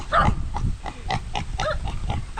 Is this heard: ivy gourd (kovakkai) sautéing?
no